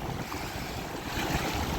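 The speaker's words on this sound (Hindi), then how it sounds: "देखो कैसे पानी टकरा रहा है किनारे, मैया का जल।" Waves from the Narmada river lap against the shore under a strong gusting wind, giving a loud, continuous wash of water and wind noise close to the microphone with no talking.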